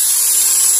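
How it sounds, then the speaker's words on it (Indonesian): A steady high-pitched whine of a power drill spinning a wire brush, cleaning a motorcycle spark plug hole before welding, continuous and close, with no talking. "pakai bor kawat ya"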